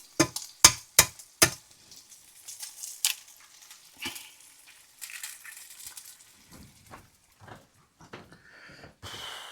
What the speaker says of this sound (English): Then we're going to throw 4 eggs in.